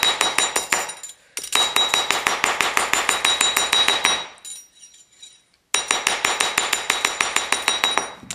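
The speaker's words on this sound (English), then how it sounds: "I straighten my wire with my rawhide hammer" Rawhide hammer strikes thick metal wire in rapid, steady taps with ringing metallic clinks, loud and close, falling into two brief pauses before the hammering resumes.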